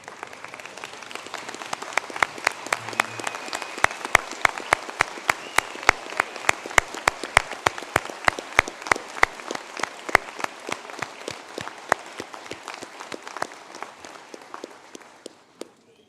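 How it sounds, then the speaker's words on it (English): Sustained applause from a sizable crowd at a university graduation ceremony, steady and dense with many individual claps, continuing for the full stretch before tapering slightly at the end. "give a round of applause for this recent groups of graduates"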